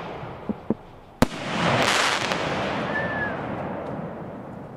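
A Thundering King firework mortar goes off outdoors: a couple of small pops, then a sharp loud launch bang followed by a long crackling, hissing burst and a faint whistle fading away.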